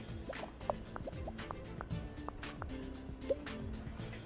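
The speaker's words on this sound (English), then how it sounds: "You can see here the bubbles are popping into the design, the technology" Soft bubbly pops and drips sound repeatedly in the Game Dev Tycoon video game, scattered and irregular over a low steady background.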